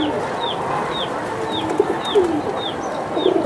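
Silver Giribaz pigeons at a pigeon sale coo softly amid a busy background hum, with a few low coos and several brief chirps repeating at a moderate distance, no talk over them.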